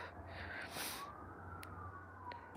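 A faint, distant siren wailing and sliding in pitch beneath a low rumble of traffic noise.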